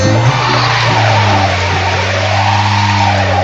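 A car engine revs hard during racing, a loud, sustained roar that stays close and constant throughout with a low droning tone.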